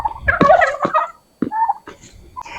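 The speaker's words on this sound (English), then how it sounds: "Turkeys need some water." Turkeys gobbling on a farm, several loud bursts of rapid gobbling calls from nearby birds, with short pauses between calls.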